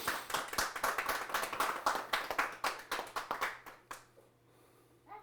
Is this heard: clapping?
yes